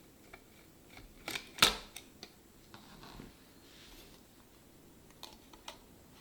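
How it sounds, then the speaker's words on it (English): Plastic snaps and light clicks as a blower fan is pried out of a Dell Micro CPU cooler fan shroud; one sharp, close snap stands out among scattered faint clicks and handling noises, with no talk. "now let's remove the blower fan from the Dell Micro CPU cooler fan shroud"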